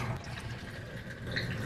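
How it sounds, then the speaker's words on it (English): Photographic fixer poured into a film developing tank, a brief close trickle and splash of liquid lasting under two seconds. "this is fixer, so I'm going to pour fixer in here"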